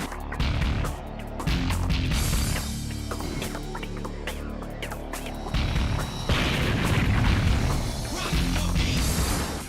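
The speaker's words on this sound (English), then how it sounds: "If you watch the explosions frame by frame" Repeated booming explosions and crashing impacts from a video game, loud and layered over a rumbling background, with sharp bursts scattered throughout.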